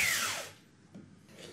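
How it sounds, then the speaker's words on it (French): A Bosch GBS 750 belt sander whirs loudly, then quickly spins down and stops, followed by a couple of faint scrapes. "on va mettre un petit coup de ponceuse ou deux"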